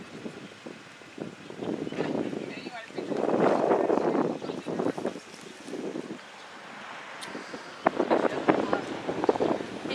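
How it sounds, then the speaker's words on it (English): Strong wind gusting across the microphone outdoors at a Route 66 festival in Elwood, rumbling in uneven bursts throughout, loud and close, with voices talking underneath. "Very windy in Elwood today."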